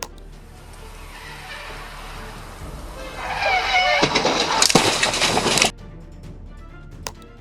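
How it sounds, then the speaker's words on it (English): A drifting BMW skids toward a stopped police car, its tires screeching loudly in a harsh burst that builds over steady road noise and then cuts off abruptly, leaving a quieter background with a brief knock afterward. "A drifting BMW veered off course and came straight at the car."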